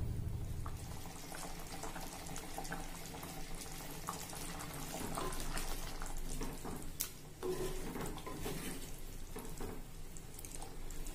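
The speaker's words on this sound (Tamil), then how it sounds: "இப்ப இது நல்லா கொதிக்கட்டும்." A pot of theeyal, a tamarind-based curry, bubbles and simmers on a stove in a home kitchen. The boiling is close and continuous, with steady gurgling and liquid churning and no talk.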